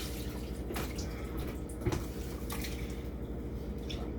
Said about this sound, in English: I'm going to go over here and pour it through a screen.